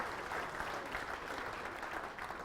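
Steady applause from an audience at a high school coaches' association event, dense and continuous clapping that holds at an even level from start to finish with no voices standing out.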